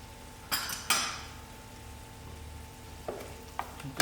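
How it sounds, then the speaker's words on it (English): A spoon stirs fish biryani marinade of baby hake in a cooking pot, giving a few sharp scraping clinks against the pot amid a low simmering background, close and moderately quiet. "give this a good stir"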